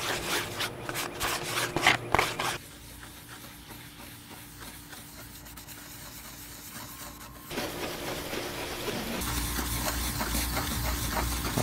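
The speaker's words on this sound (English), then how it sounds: "I'm gonna keep scrubbing" A car headlight lens is scrubbed with a toothbrush and toothpaste, a quick rhythmic bristly rubbing up close at first, then steadier softer brushing strokes that grow slightly louder toward the end, with no talking.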